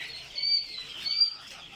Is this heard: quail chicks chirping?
yes